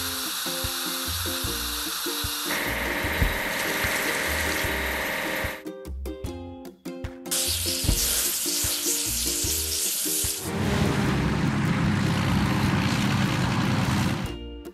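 Water spraying while an auger truck is washed in a kids' truck-building mobile game, a steady hissing wash that changes character partway through, with tonal game music and effects layered throughout and no talking.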